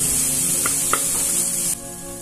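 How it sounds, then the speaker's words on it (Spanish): Chopped onion added to a little oil in a frying pan gives a steady, loud, close sizzle with a couple of soft clinks, dropping sharply in level near the end. "en una sartén agregamos un poco de aceite y vamos a agregar la cebolla que picamos al principio"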